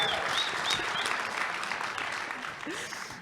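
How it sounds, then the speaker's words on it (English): An audience applauds steadily for about three seconds, a dense even patter of clapping that tapers slightly toward the end, with faint background voices. "round of applause for Jeff Booth."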